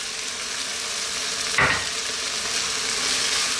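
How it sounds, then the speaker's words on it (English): Cream is dropped into a pan of sizzling tomato tuna pasta sauce, a steady frying hiss with one brief splashy burst as it lands, then the sizzle continues alone. "a little bit of cream, drop that in."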